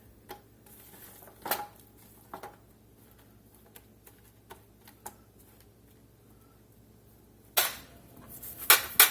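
Asparagus with thyme tossed in a pan makes scattered light clinks and taps, sparse and fairly faint at first, then a louder cluster of metallic rattles near the end.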